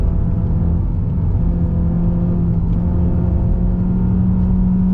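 2.0L Mazda 3 sedan engine pulling in second gear on a hill road, a loud, steady in-cabin drone with a slowly rising pitch and constant road rumble, no talk.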